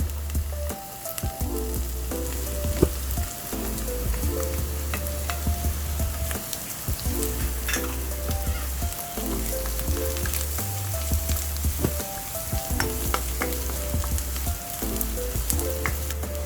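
Garlic and a medium white onion sizzle steadily in a hot pan with occasional stirring, a continuous close frying hiss with no talk.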